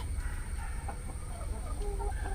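Faint, soft clucks from a chicken perched up in a tree come through a steady background hiss, scattered and distant.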